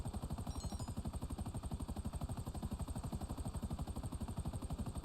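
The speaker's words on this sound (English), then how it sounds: "That's my helicopter." A helicopter in GTA Online whirs steadily with a fast, even rotor chop throughout, loud and close with no voices over it.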